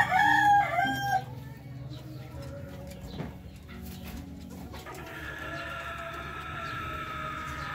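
A rooster kept with a small flock of hens gives one loud, close crow at the very start, then quieter clucking and farmyard ambience follow.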